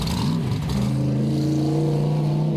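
A loud modified race car engine drones close by on a quarter-mile track, its pitch dipping and then holding steady as it runs at speed.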